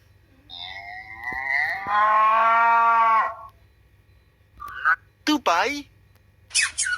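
A cow gives one long, loud moo close up, followed by several shorter lowing calls and bleat-like sounds in a quiet setting with no talking.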